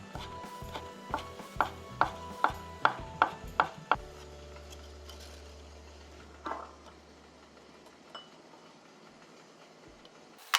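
A knife chops blanched mung bean sprouts on a cutting board in a Korean cooking exam kitchen, with about ten quick, evenly spaced knocks that stop abruptly, then a low hum and a few faint stray taps.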